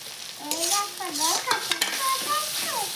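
Onions fry in a pan as salt, chili powder, turmeric and cumin are stirred through, giving a steady close sizzle broken by scraping stirs and a few sharp clinks, with faint background tones.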